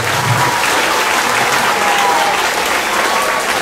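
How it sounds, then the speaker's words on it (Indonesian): Loud, dense applause from a crowd, steady clapping that fills the whole stretch without a break. "Tepuk tangan dulu."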